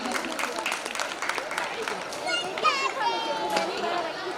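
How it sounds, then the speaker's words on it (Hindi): Audience applause at a school annual-function poetry recital, a dense steady patter of clapping with crowd chatter and children's voices mixed in, held at an even level throughout. "तो तालियों की गड़गड़ाहट से स्वागत कीजिए"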